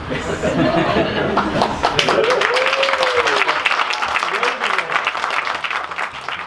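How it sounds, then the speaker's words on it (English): Live audience applauding at the end of a Streets of Rage music event, a loud, steady round of clapping with chatter and chuckles mixed in and music tones sliding underneath. "the event finished with a round of applause"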